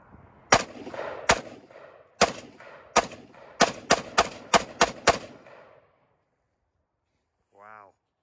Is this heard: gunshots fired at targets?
yes